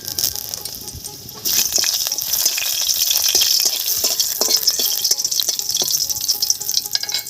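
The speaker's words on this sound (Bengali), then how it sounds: "তেল গরম হয়ে গেছে তেলের মধ্যে দেব তিন চারটে শুকনো লঙ্কা দুটো তেজপাতা" Dried red chillies and bay leaves dropped into hot mustard oil in a kadai, a sizzle that surges louder after a quieter start and continues crackling and spitting up close, with scattered stirring clicks.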